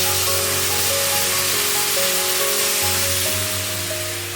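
Whisked yogurt poured into hot frying masala for a vegetable curry, a loud, steady hiss and sizzle close up that holds throughout, with faint tonal kitchen sounds underneath.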